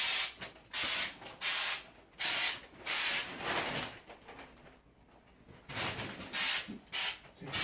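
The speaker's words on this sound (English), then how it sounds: "with these little aerosol cans is putting them in warm water to warm them up. It makes them spray a lot easier" Short repeated hissing bursts from a small aerosol can spraying orange peel texture onto drywall during a repair, close and loud, with brief pauses between sprays and one longer gap midway, no voices.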